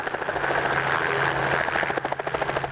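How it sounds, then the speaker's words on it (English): A helicopter arriving at Utah State University for the start of Aviation Week, its rotor chopping in a loud, steady pulse with a strong engine whine, close by and growing more distinctly rhythmic toward the end. "This helicopter is coming in to kick off Aviation Week at Utah State University."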